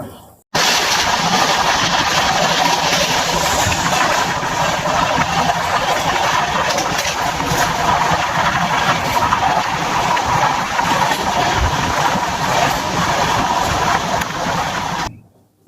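The Bhagat Ki Kothi–Tiruchirappalli Humsafar Express passenger train, number 20481, runs at speed up to 110 km/h. A loud, continuous rumble and rail clatter fills the whole stretch as heard from on board.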